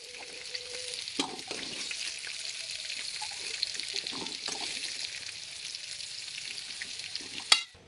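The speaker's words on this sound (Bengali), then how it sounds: "আলুগুলো দিয়ে আলুগুলো লাল করে ভাজবো" Potatoes fry in oil until browned, sizzling with a steady, moderately quiet crackle and occasional stirring scrapes, ending in a sharp clatter.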